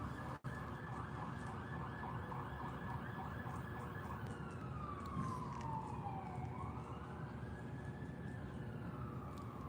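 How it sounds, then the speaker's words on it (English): Emergency vehicle sirens sound faintly from outside, a wailing tone gliding down and back up, heard under a low background hum with a brief click near the start. "I bet you guys can hear the sirens pretty loud."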